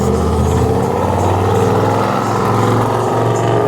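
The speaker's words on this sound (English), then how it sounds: "That a noisy car just went by." A loud, noisy car engine rumbles close by throughout, a steady low drone with shifting harmonics as it passes, with no talking over it.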